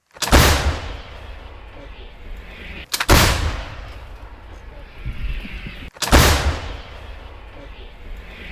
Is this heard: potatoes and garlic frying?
no